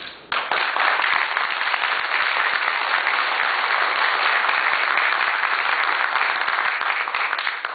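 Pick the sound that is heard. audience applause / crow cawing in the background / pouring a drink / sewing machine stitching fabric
audience applause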